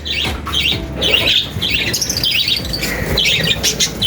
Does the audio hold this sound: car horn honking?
no